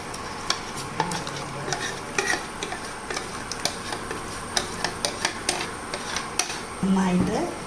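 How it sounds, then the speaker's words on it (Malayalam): A flour batter for carrot halwa is stirred steadily in a pot of boiling mixture, producing repeated rhythmic scrapes and taps over a soft bubbling sizzle. "കട്ട പിടിക്കാതെ നന്നായി ഇളക്കിയെടുത്തോണ്ടിരിക്കണം"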